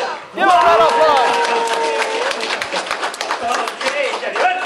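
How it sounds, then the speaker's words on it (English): An audience at an entrepreneurs' motivational talk breaks into loud applause mixed with cheering and shouting voices, dense and sustained after a brief quiet start. "Give a round of applause."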